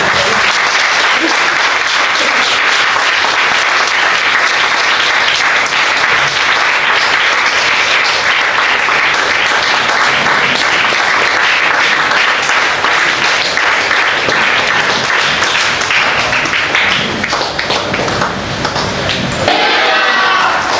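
Church congregation clapping loudly and continuously through a bishop's special sermon, a dense sustained roar of many hands that fades out right at the end.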